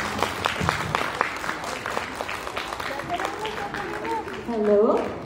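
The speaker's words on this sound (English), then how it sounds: "A round of applause, please." Audience clapping at a Philippine readers and writers festival welcomes an author, choppy and moderately loud, with talk and voices mixing in toward the end.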